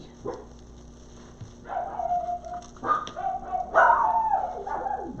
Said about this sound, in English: if you're gonna bark, go outside